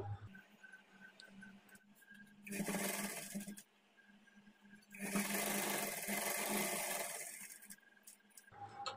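A sewing machine stitches a plain blouse in two sustained motor runs, with quieter pauses between and before them, heard up close and alone.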